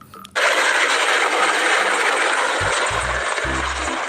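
A green army toy helicopter's whirring rotor noise starts abruptly and runs loud and steady, close by, with a few low knocks toward the end.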